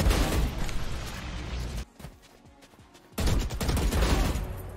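Short bursts of tap-fired gunshots in the Valorant shooter game, loud and dense for nearly two seconds, then a quieter gap with faint clicks, then another loud run of shots to the end.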